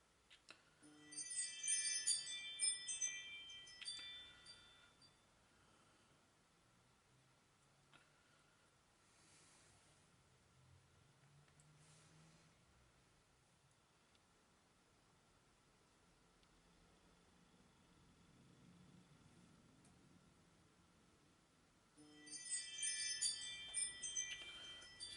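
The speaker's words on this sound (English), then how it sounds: "Sorry about the doorbell." A doorbell chimes softly twice, a tinkling ring near the start and again near the end, separated by a long stretch of near silence with faint room hiss.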